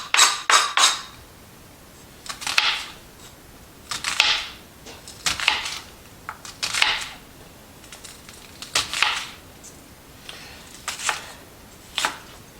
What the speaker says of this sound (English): dicing an onion can get tricky, especially when you get to the second half of the onion